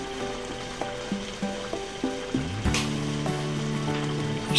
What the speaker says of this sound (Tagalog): salmon yan mga kaibigan, yung ating niluluto